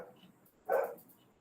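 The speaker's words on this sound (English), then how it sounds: "So there's a sound of dog barking in the background." A pet dog barks in the background of a home setting, a single muffled bark fairly distant and moderately loud against a quiet room.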